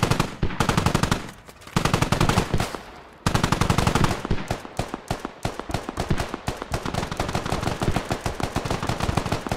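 Enemy machine-gun fire in the military shooter Squad, rapid bursts of automatic gunshots crackling loud and close, broken by brief pauses before resuming in long, sharp, rhythmic strings.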